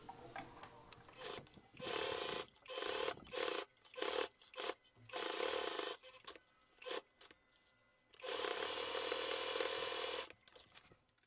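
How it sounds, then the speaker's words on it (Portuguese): A domestic sewing machine runs in repeated bursts, stitching a seam on a fabric bag, each whirring run of needle strokes stopping briefly before starting again, close and steady with no talk. "Agora eu vou passar uma costura aqui para fechar e a outra mais em cima."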